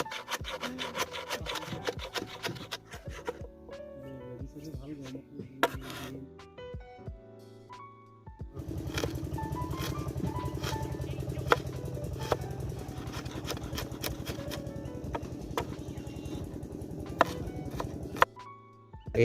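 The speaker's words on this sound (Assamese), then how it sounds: "এয়া দেখিছে মান ধনিয়া, নৰসিংহ, পুদিনা, যোনখিনি আমি একদম মিহিকৈ চপ কৰি ল'ম।" Fresh coriander and mint chopped finely with a knife: irregular clusters of sharp blade strikes on a board, quicker and denser in the second half, set against a sustained tonal background, with no speech.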